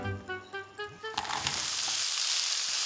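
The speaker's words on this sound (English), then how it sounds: "In a pan, I'm gonna saute the leeks." Leeks sauté in oil in a pan, a few soft knocks from handling giving way to a loud, bright, steady sizzle close by.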